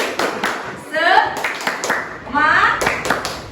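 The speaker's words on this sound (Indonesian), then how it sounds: "Oke, tepuk semangat." A classroom performs the Indonesian 'tepuk semangat' spirit clap chant, with rhythmic groups of hand claps close by interleaved with chanted voices.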